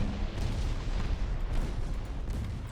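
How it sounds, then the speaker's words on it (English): A torpedo hit on an enemy ship in the naval battle game Ultimate Admiral: Dreadnoughts: a dense, rumbling burst of explosion noise, heavy in the low end and sustained across the short span, with no speech. "Torpedo hits."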